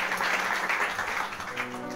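Congregation in a French-language church service applauding and acclaiming God, a steady sustained wash of clapping and cheering voices throughout, fairly loud and continuous.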